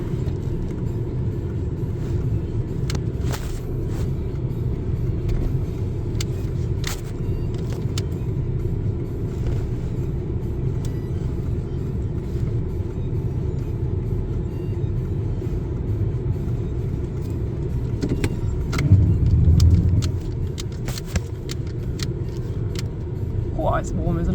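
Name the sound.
1995 Honda Legend KA8 car reversing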